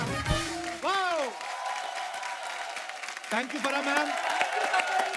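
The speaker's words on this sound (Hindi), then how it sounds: "एक बार फरा मैम और रवीना जी के लिए जोरदार तालियां" Applause and cheering from a studio audience on a comedy talk show swell up beneath a host speaking and laughing over music-like tones, the crowd noise moderately loud and busy throughout.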